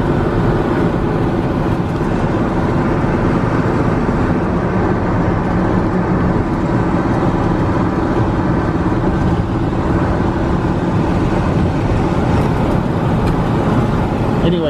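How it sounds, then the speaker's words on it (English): A 1965 Checker Marathon taxi cab cruising on the road, with a continuous loud rumble of engine and road noise that holds steady throughout. "Everybody enjoys seeing an old classic taxi cab cruising around."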